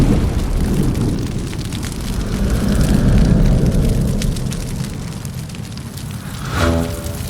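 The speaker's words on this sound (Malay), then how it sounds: "Ia akan meletup." A cartoon explosion in an animated kitchen battle: a loud, rumbling boom that swells and rolls on for several seconds, ending with a brief crackle.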